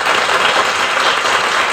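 An applause sound effect, loud and close, a steady, even burst of dense clapping lasting under two seconds with no speech.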